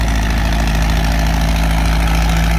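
An antique tractor, 2500 to 3000 lb class, on Firestone rear tires, runs at a tractor pull with a loud, steady, heavy low engine drone, close and continuous without pause.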